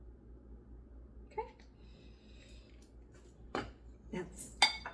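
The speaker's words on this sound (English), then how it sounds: "Let's get that all mixed and incorporated together." Butter vanilla is stirred into a cinnamon roll filling, heard as quiet scattered clinks and scrapes of a utensil against a bowl, with a louder knock near the end.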